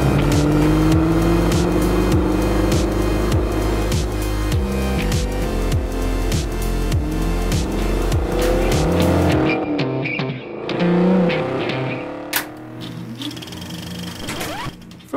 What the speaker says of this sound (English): I'm gonna go drive into the sunset now.